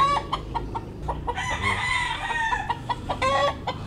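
Tagalog gamecock roosters cluck and crow in a lively, close flock, with several overlapping crows rising over steady clucking and no talk.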